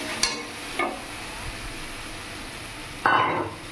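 Spice paste of ginger, tomato, green chili, salt and turmeric with onion fries softly in a pan for a yam and prawn curry, a low steady sizzle broken by a few scraping stirs of the spoon.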